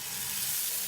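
Wheat dosa batter sizzles on a hot pan, a steady, close hiss lasting under a second with no break.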